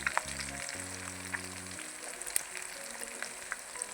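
Chicken and beef kebabs fry in a pan, giving a steady, close sizzle with scattered sharp crackles and pops. A brief low hum sounds near the start.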